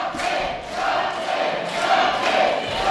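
A wrestling crowd chanting at an independent match, a steady rhythmic chant filling the hall at moderate distance.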